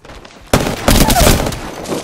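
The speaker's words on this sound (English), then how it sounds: "They spotted me and I'm taking shots. Opening fire." Gunfire crackles in a video game, starting suddenly after a quiet moment and continuing in loud, rapid volleys with heavy surges of shots.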